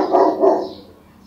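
A dog gives two quick, close barks, the second fading into a short tail of silence.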